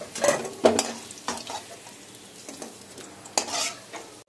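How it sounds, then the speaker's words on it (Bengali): Potatoes fry in hot oil with a steady sizzle, broken by several sharp scraping stirs and metallic clinks of a spatula against the pan; no talking. "আলুটা এবার লাল করে ভাজা হয়ে গেছে।"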